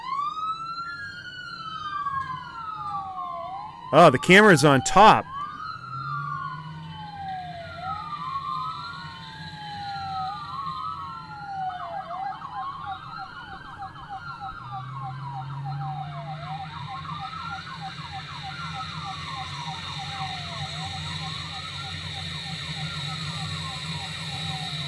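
A police car siren in a video game wails continuously, rising and falling in repeated sweeps, with a brief loud burst of noise early and a short spoken remark.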